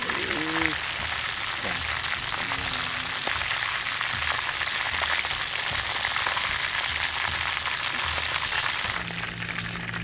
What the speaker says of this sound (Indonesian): Selagi saya goreng dagingnya